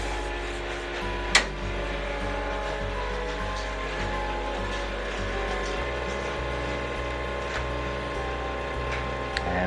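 A steady mechanical hum with a low motor drone and faint rattling, running continuously, broken by one sharp click early on.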